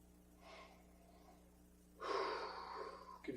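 Heavy breathing during a boxing workout: one short breath, a pause, then a longer, louder forceful exhale through the mouth, close to the listener.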